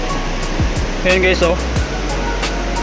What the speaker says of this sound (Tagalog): Naririnig niyo yung ingay ng tubig.